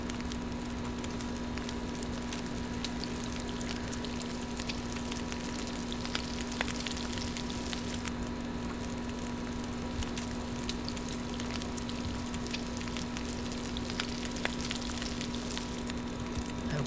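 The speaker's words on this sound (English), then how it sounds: "Let's go ahead and cook the 2 more slabs." Slabs of meat cook over a fire in The Long Dark, giving a steady, even sizzle and crackle with a constant low hum running underneath and no voices.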